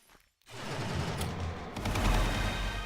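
Rapid, sustained assault rifle gunfire in the video game Magicka bursts in after a brief silence, a dense continuous rattle of shots that swells louder toward the end.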